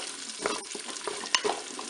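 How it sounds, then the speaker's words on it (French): Potatoes and lardons are stirred in a Cookeo electric cooker, a utensil scraping and clicking through the food over a steady sizzle of frying. "je mélange tout ça"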